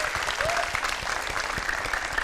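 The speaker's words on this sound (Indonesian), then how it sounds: "Sekali lagi tepuk tangan." An audience claps together in a studio talk show setting, a dense, steady wash of applause lasting the whole moment with no voices over it.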